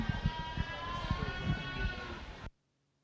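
A market goat bleats in a long, wavering call at a county fair goat show in Laramie County, fairly close and faint, ending in sudden silence.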